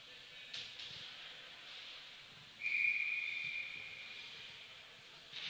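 A referee's whistle at a junior ice hockey game gives one sharp, shrill blast lasting over a second, heard from a moderate distance over low arena ambience.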